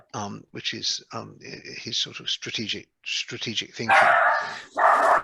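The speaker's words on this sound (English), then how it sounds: "That's a dog in the background agreeing with me" A dog barking in the background, two rough loud barks near the end, the first following someone talking.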